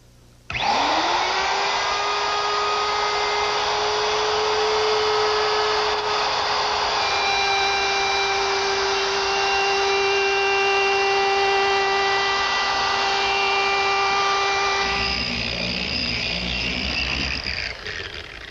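An electric sander smooths the edge of wood veneer in a workshop. Its high, steady whine spins up and runs continuously for about fifteen seconds, then the tone roughens as it winds down. No one speaks.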